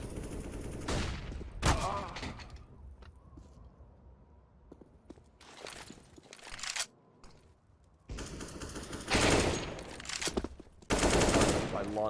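Bursts of gunfire in a Counter-Strike: Global Offensive esports match, with several loud automatic volleys separated by quieter stretches of game ambience.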